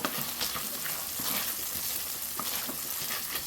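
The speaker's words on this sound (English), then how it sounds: "we're going to be adding our garlic. So about 1 to 2 minutes we're going to allow the garlic to cook for." Garlic sizzling in a pan over medium heat for a creamy butter garlic salmon pasta, a dense continuous frying hiss that holds steady and close throughout, with no voices.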